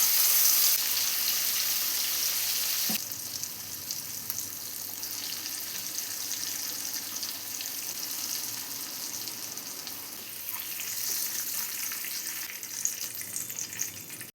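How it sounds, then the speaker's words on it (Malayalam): Slices of elephant foot yam fry in a shallow layer of oil, giving a steady, close sizzle that runs the whole time with faint watery crackle and no voices. "ഇനി ബാലൻസുള്ള ചേനയെ ഇതുപോലെ ഒന്ന് ഫ്രൈ ചെയ്തെടുക്കാം"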